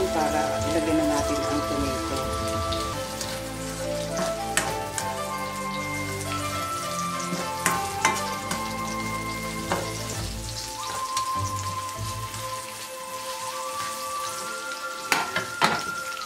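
Tomato fries in a pan for a tofu and shrimp soup, a dense, steady crackling sizzle like rain on a surface, close and loud throughout, with occasional clinks of a utensil on the pan.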